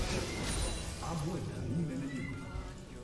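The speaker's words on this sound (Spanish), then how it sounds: "Tengo a mi gato llorando por el fondo" A house cat meows and cries repeatedly in the background, rising and falling wails at moderate distance, under steady talk and game sounds during a gaming session.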